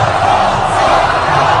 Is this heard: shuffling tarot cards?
no